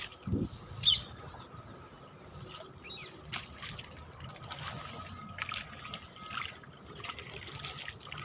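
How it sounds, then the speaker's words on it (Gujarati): Water from a borewell trickles and splashes steadily, with faint bird calls and occasional clatter in the background; no voices. "बोरનું પાણી આવે"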